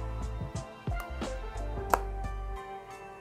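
Repeated close clicks and knocks as a MagSafe magnetic charger is attached to an iPhone 12 again, several brief snaps spread over a few seconds without speech.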